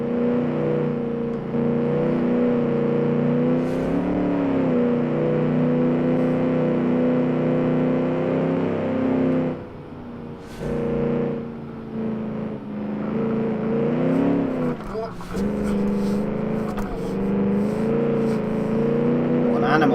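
A 1946 race car engine in a racing video game on the Road Atlanta circuit drones and revs steadily, dipping briefly and climbing again, with someone talking over it throughout.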